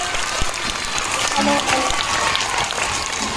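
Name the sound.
audience applauding for the teachers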